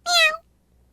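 A single short cat meow, clear and close, that rises and falls in under half a second before fading into near silence.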